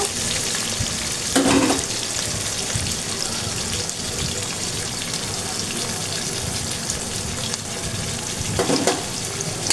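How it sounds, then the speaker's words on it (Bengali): Onion, tomato and green chili fry in hot oil for a beef and chana dal dish, a steady close sizzle running throughout with two brief louder bursts of stirring or clatter. "তেল গরম হলে সেখানে পেঁয়াজ, টমেটো, কাঁচামরিচ দিয়ে দিব।"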